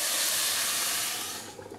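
Rice cooks in a hot pan over high heat while it is being made with biquinho peppers, giving a steady, close sizzling hiss that thins out slightly toward the end.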